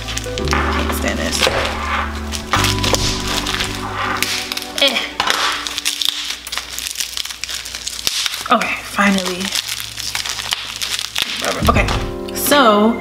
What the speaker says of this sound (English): now it's time to open the oils. Ah, come on. These scissors.